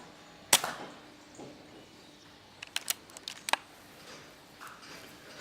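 An airgun fired at a rat outdoors, a single sharp crack near the start, then a few small clicks and knocks in a quiet setting with no talking.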